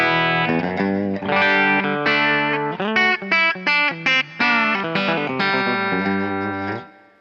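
Electric guitar played through a Kemper profile of a clean Marshall amp fitted with a Fender-style bright cap, ringing chords and short choppy strums with a glassy, chiming top end, loud and alone.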